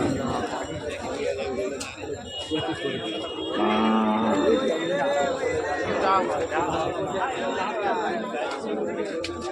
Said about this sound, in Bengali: এই একটা মিডিয়াম সাইজের গাভী আপনাদের সামনে তুলে ধরছি।